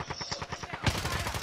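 Gunfire in the video game Warzone: a rapid run of evenly spaced shots ends in a sudden louder, denser burst of fire, up close and dominating the mix.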